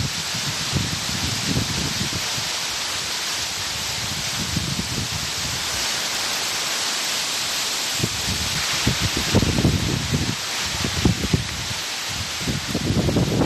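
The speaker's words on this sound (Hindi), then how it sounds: "महाराष्ट्र रत्नागिरी में तेज हवाओं के साथ बारिश हो रही है।" Heavy rain driven by strong Cyclone Nisarga winds in Ratnagiri, Maharashtra, makes a dense, continuous hiss, with rough gusty rumbles surging and fading throughout.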